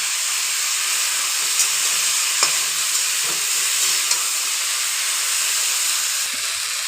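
Mixed vegetables for a Bengali pachmishali sabji fry in a pan, giving a steady broadband hiss and sizzle that runs throughout, with a few faint stirring knocks and no voices.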